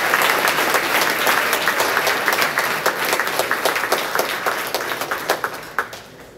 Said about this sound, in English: Please give a round of applause to this year's inductees into the Chi Alpha Sigma.